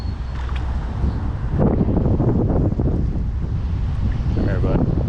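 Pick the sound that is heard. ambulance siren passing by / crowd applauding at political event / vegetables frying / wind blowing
wind blowing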